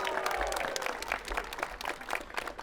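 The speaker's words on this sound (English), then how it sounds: "Let's give them a round of applause." Crowd at the opening of a new neighborhood library applauds, a busy patter of many hands clapping with some low rumble underneath, fairly close and continuous.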